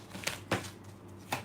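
An oracle card is drawn from a deck, giving three soft, brief papery slides and taps spaced across a quiet moment.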